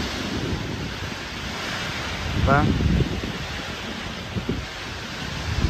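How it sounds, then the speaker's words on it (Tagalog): Strong wind roars and rain pours steadily outdoors during a typhoon, buffeting the microphone in a dense, continuous rush, with a brief voice breaking through midway. "Napakalakas ng hangin at ulan."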